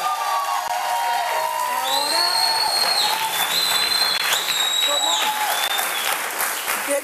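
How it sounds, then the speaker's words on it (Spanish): Studio audience on a Venezuelan TV talk show clapping and cheering for Luis Fernández, loud sustained applause lasting about seven seconds, with whistles and voices mixed in. "Un aplauso para Luis Fernández"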